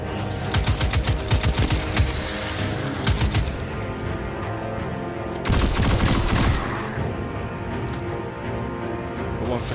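Repeated bursts of gunfire from a gun in the Destiny 2 video game, fast rattling volleys separated by short pauses, loud and up front with game sounds beneath.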